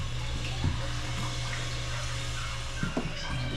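Water runs steadily from a tap at home, a constant even rush with faint knocks and clatter underneath, no talking.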